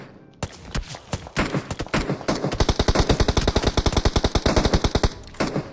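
Sustained automatic gunfire in PUBG Mobile, a rapid loud string of dozens of evenly spaced shots after a few scattered single bursts, close and dominant throughout.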